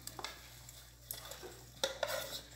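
Cabbage goes into a pot of meat and vegetable soup with a few soft stirring scrapes and light splashes, faint and intermittent over a low steady hum.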